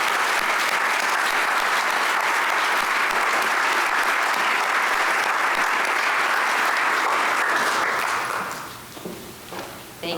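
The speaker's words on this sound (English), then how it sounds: "Let's give them a round of applause" An audience at a high school scholarship night applauds steadily for about eight seconds, a dense wash of clapping that fades out near the end.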